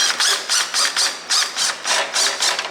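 A socket wrench ratchets on fuel line fittings during an engine swap on an S14, making about nine quick, close clicking bursts in a steady back-and-forth rhythm.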